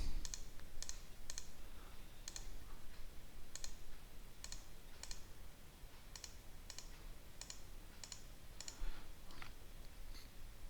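Mouse clicks sound in a quiet room as features are traced in QGIS while digitizing irrigation assets, a steady run of sharp, light taps at irregular intervals over faint background hiss.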